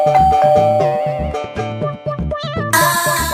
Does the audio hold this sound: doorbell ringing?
yes